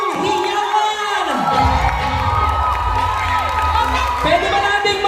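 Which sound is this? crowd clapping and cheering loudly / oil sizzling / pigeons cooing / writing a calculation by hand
crowd clapping and cheering loudly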